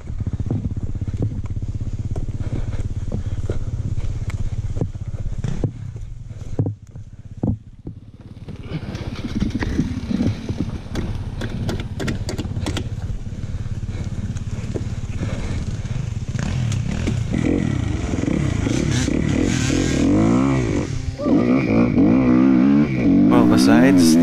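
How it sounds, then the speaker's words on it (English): A dirt bike engine runs on a hill climb near Black Lake, Michigan, idling and sputtering at first, then revving up with rising and falling engine notes close to the microphone, with a rider talking over it. "the dirt bike bogging out and stalling, man, the bike was running great up the hill climb"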